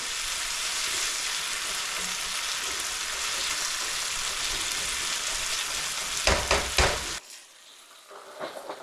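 Garlic, onions, oregano and other seasonings sizzle steadily in a hot pan, a close, continuous hiss, broken near the end by a few stirring scrapes before the frying drops sharply away.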